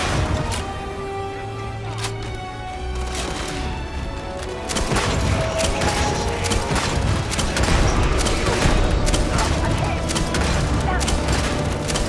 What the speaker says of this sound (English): Open fire! Fire!